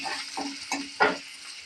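Onions frying in a pan for a desi magur fish curry, a soft steady sizzle with a few stirring scrapes and light clinks of a utensil.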